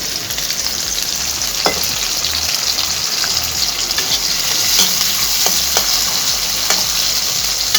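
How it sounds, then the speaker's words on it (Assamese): Onion and tomato fry in a pan for a fish curry, producing a loud, continuous, bubbling sizzle with occasional stirring clicks and no talk. "এনেদৰে 1 মিনিটমান সময় পিঁয়াজ আৰু বিলাহীখিনি ভাজা হৈছে"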